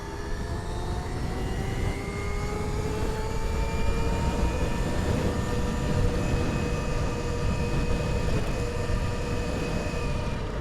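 A motorcycle prototype accelerates toward its roughly 44 mph top speed, engine whine climbing steadily through a continuous loud run with rushing wind noise underneath.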